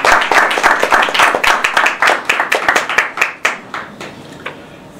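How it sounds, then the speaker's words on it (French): Audience applause at a literary book review event in Côte d'Ivoire, loud dense clapping that gradually thins into scattered individual claps and fades toward the end. "Ça vaut des applaudissements."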